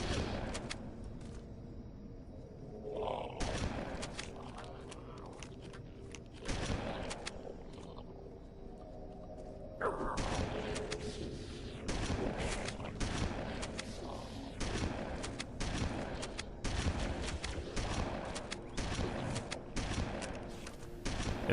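Gunfire in Halo: Combat Evolved on Legendary difficulty, aimed at Flood combat forms dropping down; loud shots and bursts come in clusters over rumbling combat noise, with quieter gaps between volleys.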